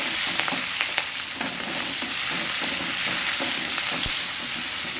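Onion, black pepper and curry leaves fry in hot oil in a pan, a dense continuous sizzle with light stirring scrapes running throughout, close and fairly loud with no speech.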